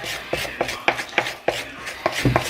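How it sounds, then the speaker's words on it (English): A metal spoon scrapes and taps around the sides of a bowl holding a powdered sugar mixture, several short distinct scrapes close up with no talking. "use a spoon to get all the edges down"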